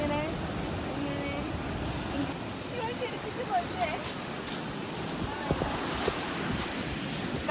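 Sea waves wash continuously against a rocky shore in Goa, a steady roaring surf mixed with wind buffeting the microphone, while a voice talks faintly underneath.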